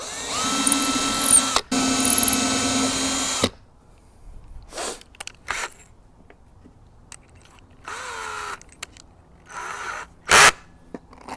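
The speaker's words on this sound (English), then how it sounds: "I'm just going to pre-drill a couple of holes." A power drill whirs loudly in two close bursts pre-drilling holes into wood, followed by quieter clattering, shuffling and a few short high squeaks.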